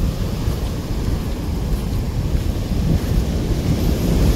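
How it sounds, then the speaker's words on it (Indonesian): Big ocean waves break continuously on a south coast beach, a loud, steady roar of surf mixed with wind buffeting the microphone, with no pauses and no voices throughout. "ombaknya di sini tuh bukan main-main ya, sangat berbahaya sekali di sini"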